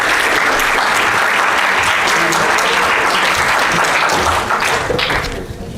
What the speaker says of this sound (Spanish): vamos a dar un aplauso a la doctora Mayra